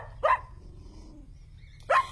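A puppy gives two short, sharp barks about a second and a half apart, clear and close against a quiet room.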